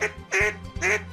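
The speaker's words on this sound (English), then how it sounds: "one man is keeping the art of duck calling alive" A hand-blown duck call in the Cajun Louisiana tradition sounds three loud, nasal quacks in quick succession, close and clear with short gaps between.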